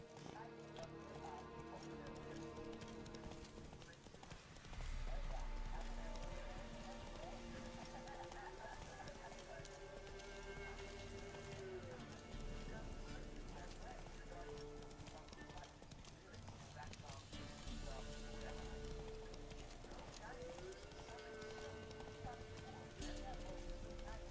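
Roach the horse trots with steady clip-clop hoofbeats through The Witcher 3, loud and continuous for the whole stretch, over game music and ambient sounds, with someone talking at times.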